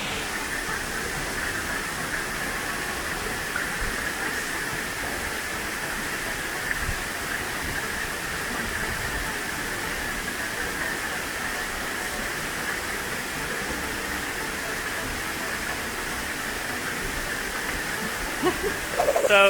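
Kilgore Falls at Rocks State Park pours steadily, a constant broadband rushing hiss heard from nearby with no voices over it.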